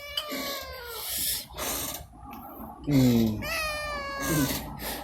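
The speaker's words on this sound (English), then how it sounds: "Are you just meowing because I'm talking?" A cat meows repeatedly and loudly close by, drawn-out complaining cries in a row with brief pauses between them.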